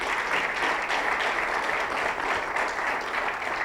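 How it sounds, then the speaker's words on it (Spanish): A congregation applauds loudly during a church service, steady dense clapping continuing without a break throughout. "Démosle un fuerte aplauso al Señor."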